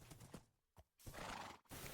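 A Minecraft horse lets out a short neigh and clip-clopping hooves in quick bursts separated by brief silences, fairly quiet overall.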